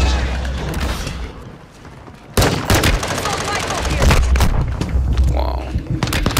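Gunfire in Warzone rattles in loud bursts and fusillades with heavy booms, continuing through most of the stretch, while players talk over the shooting.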